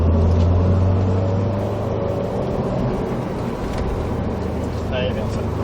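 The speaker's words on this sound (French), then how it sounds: "Et petit à petit on accélère." A Subaru WRX STI accelerates gradually on a track during a driving course, its engine a loud steady drone with a low tone that fades slightly, while an instructor talks over it.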